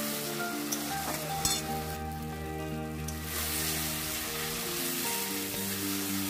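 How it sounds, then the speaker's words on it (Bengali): Fried eggs sauté in a spice mixture in a pan after the oil separates from the masala, giving a steady, even sizzle with faint stirring scrapes throughout and no talking. "তারপরে মশলাটা থেকে যখন তেল ছাড়বে তখন আমি কিন্তু দিয়ে দেবো ডিম ভাজাগুলো"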